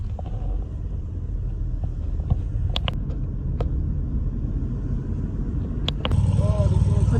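A classic Spider RS car grinds out a low engine rumble while driving up the Galibier mountain pass at a vintage car event, with voices around and the sound swelling near the end.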